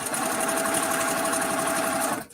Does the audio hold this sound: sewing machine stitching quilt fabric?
yes